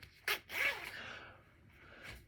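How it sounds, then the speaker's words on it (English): A zipper is pulled in a few short, quick rasping strokes, close and fairly quiet, with a softer drag trailing off at the end. "Zippers."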